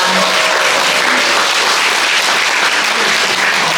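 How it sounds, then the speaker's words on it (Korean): An audience at an environmental association's anniversary lecture event claps, a dense, even burst of many hands applauding that holds steady throughout with no voices heard. "한 번 더 뜨거운 박수 부탁드리겠습니다"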